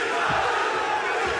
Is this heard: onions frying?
no